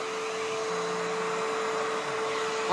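A steady motor whine and airy rush of a vacuum cleaner being run over a dog, continuous, close and loud, with a faint rustle underneath and no voices.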